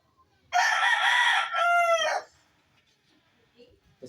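A rooster crows loudly and close by in one long, two-part call, then everything goes quiet apart from faint background sounds.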